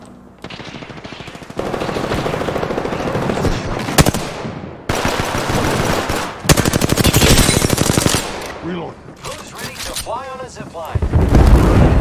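Rapid automatic gunfire in the shooter game Apex Legends, loud sustained bursts separated by short pauses, with a voice speaking briefly between volleys.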